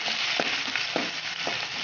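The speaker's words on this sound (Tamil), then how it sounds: "வெங்காயம் நல்லா வணங்கிடுச்சு" Onion, garlic and vadagam fry in oil in a pan, giving a brief, steady hiss of sizzling with a few faint stirring ticks.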